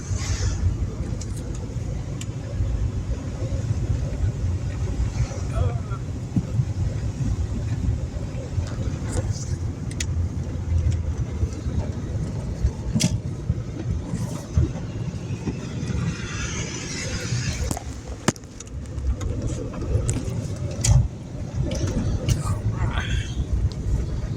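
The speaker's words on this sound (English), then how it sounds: "Let this truck go by." A truck driving past on a mountain road, a steady low engine rumble and tire roar that swells and fades over about twenty seconds, with some background noise.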